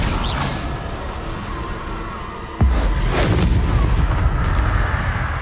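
Spells cast in the video game Hogwarts Legacy: a whooshing sweep, then a sudden heavy booming impact halfway through followed by a sustained rumbling roar.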